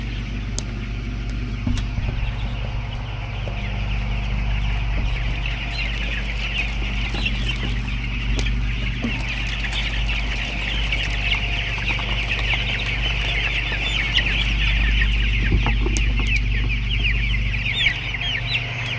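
Many chicks clucking and murmuring together in a continuous chorus inside a poultry house, with a steady low machinery hum underneath.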